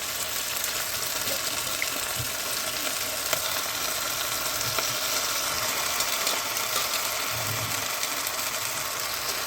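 Chunks of mutton frying in a pan, a dense continuous sizzle held at a steady level throughout, close and loud with no voices.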